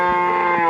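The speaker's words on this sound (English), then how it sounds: "Mooing like a cow or making a similar noise" A single short, loud mooing call, cow-like, lasting under a second and heard alone.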